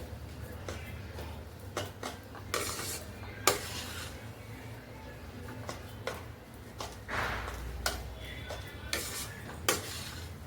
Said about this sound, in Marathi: आता तूप सुटत तर आपल्याला असंच परतून घ्यायचं